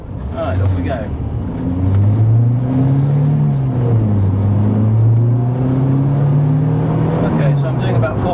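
A Volkswagen Mk1 Golf GTI pulls away and accelerates, its engine note rising through the revs, dipping at a gear change and climbing again, loud and close as if heard from inside the cabin.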